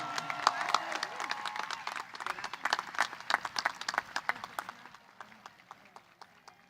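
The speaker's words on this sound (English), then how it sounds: "Let's congratulate all 19 of our valedictorians with a round of applause." Crowd applause honoring the 19 valedictorians at the Monrovia Class of 2024 graduation ceremony, steady clapping fading toward the end, mixed with sharp individual claps and murmuring from the audience.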